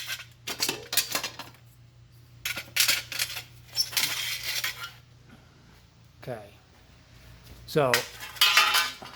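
Metal trim rings for 1962 and 1965 car wheels clink and scrape as they are handled, in sharp bright bursts of metallic rattling with brief pauses, close by, while someone speaks briefly.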